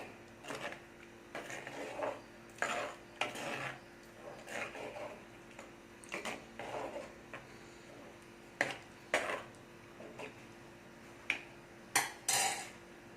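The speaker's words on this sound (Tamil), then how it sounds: "நல்லா கிளறி விட்டுக்கலாம்." Spoon stirring curd in a pot for Kerala-style pulissery, giving irregular soft scraping clinks against the metal at close range, with quiet pauses between strokes and no talk.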